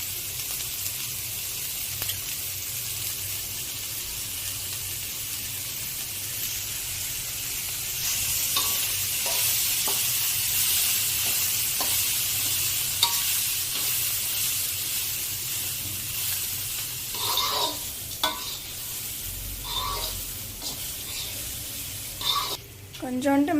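Cluster beans and onion sautéing in a pan for kothavarangai usili, a continuous hiss of frying with occasional scrapes and clinks of a spoon stirring, near and steady, later with a few sharper knocks.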